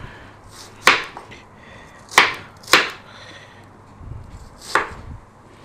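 A knife chops onion on a board for paneer tikka, with four sharp, separate, loud cuts spaced a second or so apart, close up, with quiet moments between them.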